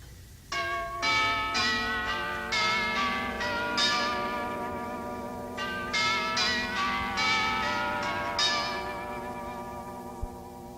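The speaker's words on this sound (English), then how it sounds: "As the lobby bell chimes" A lobby bell at Deerfield chimes a series of ringing, overlapping tones in an uneven rhythm, resonant and moderately distant, fading slowly with a faint room echo and no talking.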